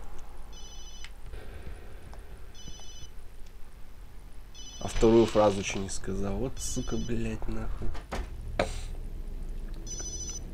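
A telephone ringing in the horror game Obscure sounds as repeated bursts of trilling electronic rings at a steady pace, with someone talking loudly over part of it.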